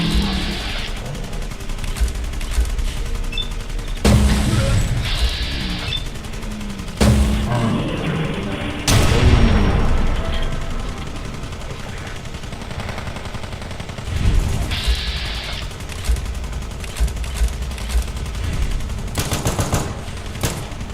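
Covering gunfire in the video game Fallout London: repeated bursts of shots crack through a busy combat mix, with louder volleys clustering near the start, middle and end over steady background noise.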